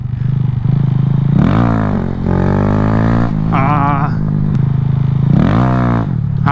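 A Honda Grom motorcycle on knobby tires revs loudly and up close, its engine rising and falling in several repeated throttle bursts over a steady idle.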